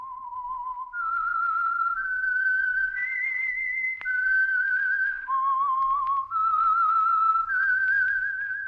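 A clear whistled theme tune from the 1949 radio program The Whistler, steady sustained notes stepping up and down in pitch, loud and close, with nothing else behind it.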